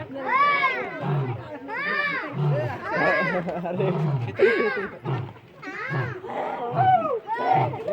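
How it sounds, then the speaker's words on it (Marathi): A lion at a Pune zoo gives repeated rising-and-falling roars in a series, mixed with excited children's voices and shouting close by. "सिंह आवाज बघा कसला काढतो ओरडतोय"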